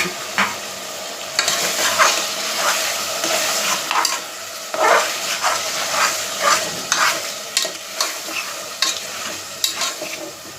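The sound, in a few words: chopped tomatoes frying and stirred in a pan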